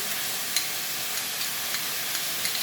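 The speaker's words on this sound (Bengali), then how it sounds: "এই মশলাটা এবার দিয়ে দিলাম এর মধ্যে। এবার ভালো করে কষতে থাকবো।" A paste of ginger, cumin, coriander, chilli and garlic frying in a pan, with a soft continuous sizzle and light crackles, occasional faint stirring scrapes, and no talking.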